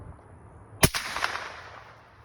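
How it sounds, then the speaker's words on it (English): A single suppressed gunshot from a CVA Scout rifle in .450 Bushmaster, firing a non-subsonic round through a Banish 46 suppressor. The crack is sharp and loud, followed by a short decaying echo. "This is the loud bullet."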